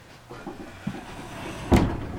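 Old 101-year-old doors in the lounge of Gillette Castle, opened and closed with soft creaks and light knocks, ending in a louder wooden thud near the end.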